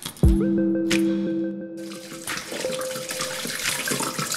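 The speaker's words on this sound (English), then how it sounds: "Empty it down your drain." Water from a tumble dryer's removable water tank is poured down a drain, a close, steady splashing stream with a brief gurgle and clunk at the start, continuing to the end without talk.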